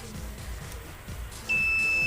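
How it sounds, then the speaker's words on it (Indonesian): A Polytron Zeromatic washing machine control module gives a steady, piercing electronic beep as it is plugged into the mains; the tone starts partway through and holds over low room noise. "itu bunyi bip ketika steker ditancapkan ke listrik"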